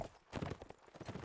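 Rapid clip-clop of horse hooves on a hard surface in the game Napoleonic Wars, close and fairly loud, during a line battle, with a busy game mix behind it.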